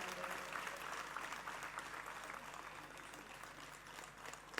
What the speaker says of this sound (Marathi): सर्वांनी जोरात टाळ्या वाजवून त्यांचं स्वागत करायला हवं